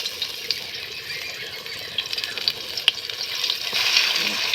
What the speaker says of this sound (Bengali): এবারে তেলটা আমার গরম হয়ে গেছে। এবারে আমি একটা একটা করে ভাজবো।